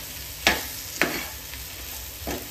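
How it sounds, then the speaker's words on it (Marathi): Okra (lady finger) being stirred into hot oil in a pan, with three or four soft scraping strokes spaced about half a second to a second apart over a low, steady background hiss. "तर भेंडी जे आहेत तेलामध्ये चांगले असे मिक्स करून घेणार आहोत।"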